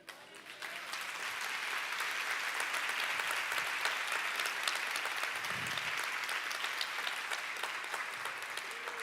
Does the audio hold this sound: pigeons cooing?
no